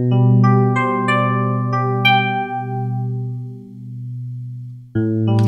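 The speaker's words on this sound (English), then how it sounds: "this electric piano, and it sounds like this." A sampled 1980s electric piano from a free instrument plugin plays soft sustained chords with a bell-like attack, fading slowly before a new chord strikes near the end, clean and alone.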